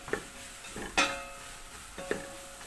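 Mushrooms sauté quietly in a pan, with a low sizzle under three distinct scraping stirs spaced about a second apart.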